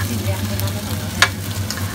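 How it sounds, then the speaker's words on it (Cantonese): Chicken wings sizzle in a wok of hot oil, a steady close-up frying hiss with a low hum beneath and a single sharp clink partway through. "咁你而家煎雞翼啦"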